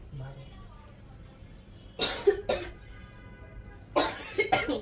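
Two pairs of sharp, close coughs break a quiet indoor room, each short burst followed by a second shortly after.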